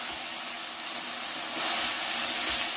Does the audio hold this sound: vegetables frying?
yes